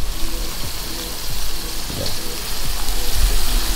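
Burgers frying on a hot griddle give a steady, close sizzle that runs unbroken throughout, with a few soft clicks and scrapes beneath it.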